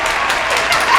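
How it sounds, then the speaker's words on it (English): A short burst of applause from people gathered at an interview session, a brief, close wash of clapping that stays fairly even for about a second and swells slightly at the end. "Put a round of applause for that right there."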